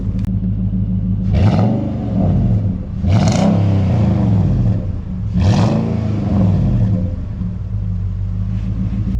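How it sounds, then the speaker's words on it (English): Nissan Titan pickup with a V8 and a budget aftermarket exhaust, revved three times from idle, each deep throaty surge rising and falling back to a steady rumble close by. "I'm gonna go ahead and get in the cab, give it a rev"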